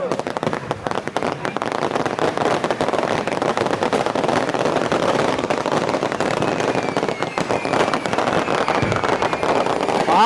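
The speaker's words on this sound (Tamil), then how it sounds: "மக்களுக்கு எல்லாம் வந்து வெடி வெடிக்குது" Firecrackers burst nonstop in a dense, loud crackling barrage during a street celebration in Jaffna, sharp pops overlapping for the whole stretch with faint voices mixed underneath.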